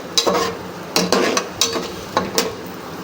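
Onion and garlic fry in oil for a meat curry, a steady sizzle broken by about five sharp scraping stirs of a spoon against the pan, close and fairly loud with no voices.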